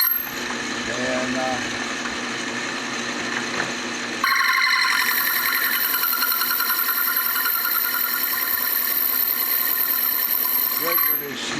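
A homemade machine cuts a piece of aluminum with a chattering, buzzing whine, a steady harsh drone that jumps louder and brighter partway through and continues close up before cutting off near the end.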